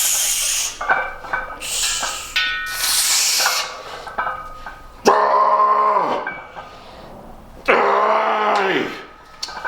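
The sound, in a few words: dog barking in home gym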